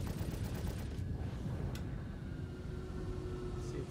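Turret fire from a ship in Star Citizen, a dense stream of rapid shots that opens loudest and then settles into a steady rumbling barrage, with no voices.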